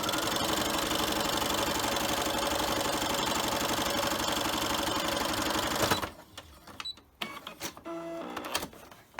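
A sewing machine runs steadily for about six seconds while stitching a child-size fabric face mask, a fast even motor whir, then stops and leaves a few faint handling clicks.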